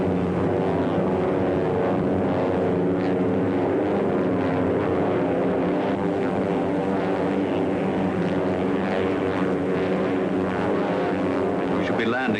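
A propeller airplane drones in flight aboard a 1937 passenger plane, a loud, steady engine hum with a rich layered tone that holds unbroken throughout.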